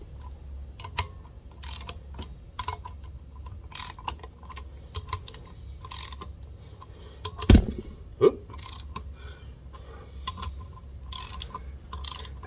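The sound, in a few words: tightening brake rotor bolts on Yamaha XS1100 wheel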